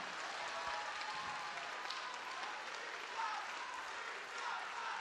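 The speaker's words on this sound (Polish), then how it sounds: "Wielkie brawa!" Audience applause at the Miss Wheelchair Poland 2016 pageant as the twelve candidates are presented, a steady dense wash of clapping from a large crowd that holds evenly throughout without a break.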